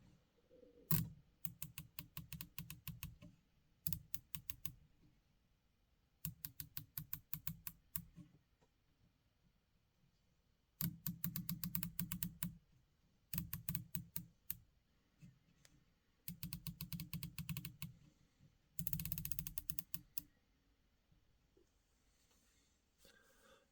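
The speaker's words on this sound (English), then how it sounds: "I'm going to go ahead and just do a little spin of this so you can hear the turret" Primary Arms SLX 1-6x24 ACSS Nova scope turret spun in quick bursts, each a rapid run of crisp, close detent clicks, separated by short pauses.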